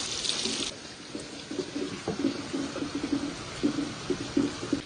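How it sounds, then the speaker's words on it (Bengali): Running tap water splashes steadily over pointed gourds being washed in a kitchen before cooking, soft and close, with faint intermittent rinsing sounds. "প্রথমে একটু ভালো করে ধুয়ে পরিষ্কার করে নেব।"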